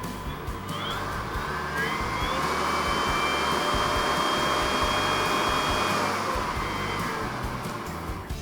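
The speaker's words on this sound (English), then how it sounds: "So that's the blower." Makita BV6040VZ cordless leaf blower running steadily as its speed is turned up, a loud close whooshing roar with a rising whine that holds for several seconds.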